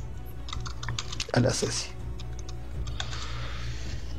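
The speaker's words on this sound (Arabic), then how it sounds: "ودي كنترول اس، ودي اف 12 من لوحه المفاتيح" Keys clatter on a computer keyboard during a coding lecture, quick irregular taps at moderate level, with a short burst of speech partway through.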